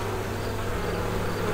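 Honey bees buzzing at a beehive in an apiary, a loud, dense, continuous drone of many bees close by, steady and without talk.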